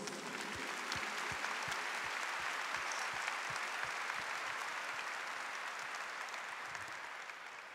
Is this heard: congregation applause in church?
yes